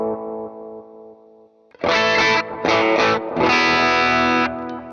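Electric guitar run through a Valeton GP-5 amp simulator with an external cabinet impulse response: a fading clean chord, then loud distorted chord bursts with short gaps and a final sustained chord.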